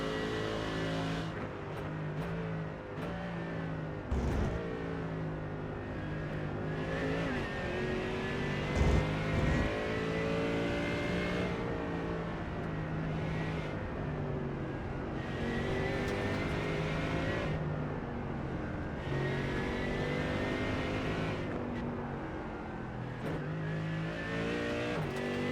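A Mercedes GT3 race car screams through the Suzuka circuit in a sim racing game, its engine note rising and falling steadily through gear changes, loud and continuous with no talking.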